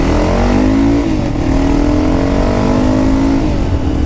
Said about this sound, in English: we'll do a little first gear pull.